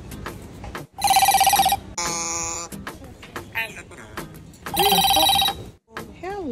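An African grey parrot imitates a phone ringing with loud, trilling bursts that sound electronic. Two long rings are separated by squawks, clicks and warbling whistles, all close to the microphone.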